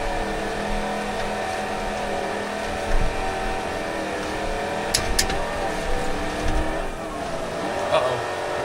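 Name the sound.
GT3 race car engine in video game BeamNG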